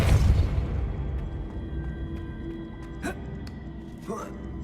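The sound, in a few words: Depulso spell cast in the video game Hogwarts Legacy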